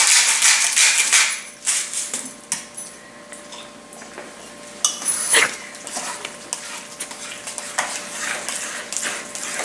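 Meat browning in a pot with sea salt, black peppercorn and more salt, stirred with a utensil: scraping clinks and sizzling frying hiss, loud and steady at first, then fainter with sporadic metallic taps, no talk.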